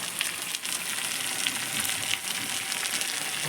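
Vegetables for a vegetarian labra curry sizzle steadily while being fried and stirred in a pan, a continuous close frying hiss with no talking.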